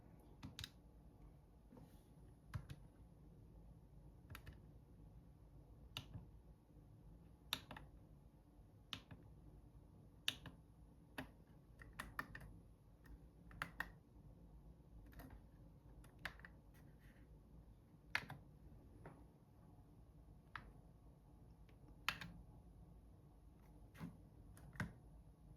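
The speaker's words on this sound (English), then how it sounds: "I click the corresponding button, and this will map the controller." Sharp, quiet clicks from game controller buttons being pressed one at a time to map them for a retro games player, spaced irregularly over a faint steady background hum.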